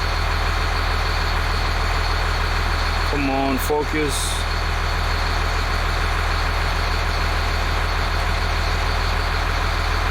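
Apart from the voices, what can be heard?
school bus engine idling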